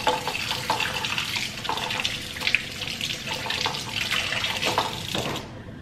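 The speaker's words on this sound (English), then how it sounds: "I'm gonna run it under a little cold water here." Cold tap water runs into a kitchen sink over an item being rinsed, a steady close splashing stream that fluctuates as the object moves under it and then cuts off at the end.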